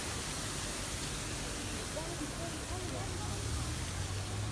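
Water from the fountain at the Argentine landmark splashes in a steady, loud, broadband rush that fills the whole scene, with a voice talking faintly underneath.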